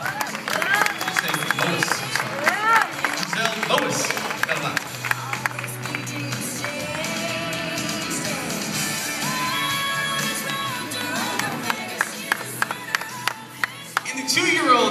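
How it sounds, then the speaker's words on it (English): An audience at a two-year-old baby pageant claps and cheers for a contestant, with loud, ragged applause and scattered shouts mixed with voices. "a warm round of applause for Rudy Chris Espinosa Jr."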